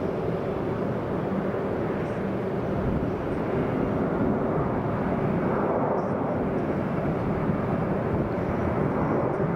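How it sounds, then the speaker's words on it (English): A JetBlue Airbus A321 roars on the runway during a takeoff that is aborted after an engine malfunction. The jet noise is a steady, heavy, low rumble throughout, with a faint swelling and fading in its tone. "As a JetBlue-operated Airbus A321 was taking off, one of its engines experienced some sort of malfunction and the takeoff was aborted."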